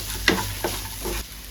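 Capsicum fries in a pan over a low gas flame, a close, steady sizzle broken by a few sharp scraping stirs of the pan.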